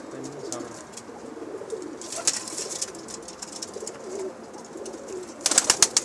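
Pigeons coo in low repeated phrases nearby, with rustling and brief bursts of higher chirps and flutter around them.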